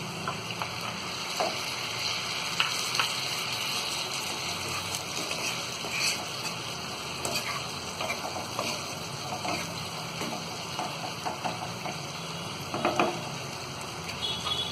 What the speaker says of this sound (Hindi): अब इसी में हम ये टमाटरों को भी डाल देंगे।